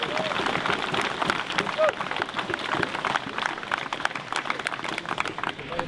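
An audience at a Viking festival applauds, dense steady clapping from a crowd that continues throughout, with a few voices mixed in.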